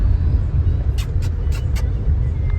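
A car reversing on a road, its engine a steady low rumble throughout, with a few short hissing bursts partway through.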